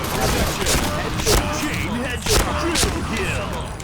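Rapid gunfire bursts in the online shooter Point Blank, several sharp volleys over a few seconds, mixed in with a player talking excitedly.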